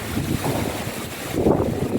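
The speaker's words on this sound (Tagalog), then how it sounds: "Ka-start lang ng hangin." Gusting typhoon wind in Hong Kong buffets the microphone in rough, uneven surges, a continuous low rumble with no voices.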